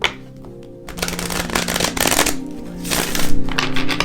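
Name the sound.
shuffling a deck of tarot cards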